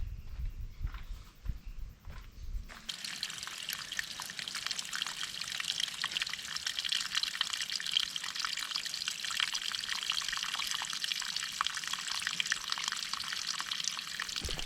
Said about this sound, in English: So now that's draining